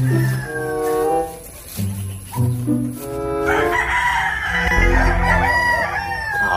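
A rooster crows loudly and close by in a few drawn-out calls, with clucking from other chickens and farmyard fowl around it.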